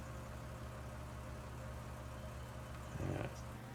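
A small tractor engine strains to lift a load of about two tons in Farming Simulator 19, a steady low idling drone with a brief rev and rattle near the end, alone and fairly quiet.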